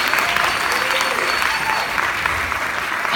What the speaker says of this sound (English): let's give another round of applause for the graduates